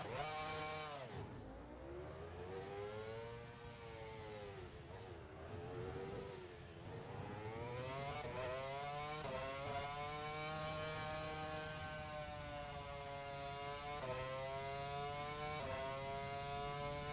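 Simulated car engine in Assetto Corsa, started by push button on a racing wheel, then held at a steady rising whine with harmonic layers, swelling and dipping in pitch as it revs, continuous and fairly quiet with no talk.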